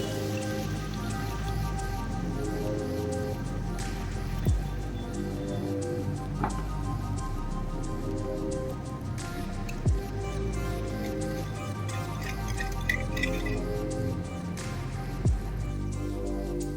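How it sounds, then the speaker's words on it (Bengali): Water poured into frying spice paste for a fish curry sets off a steady, hissing sizzle in the pan, broken by occasional sharp pops and crackles, with no one talking. "এবার আমি জল দিয়ে দিচ্ছি"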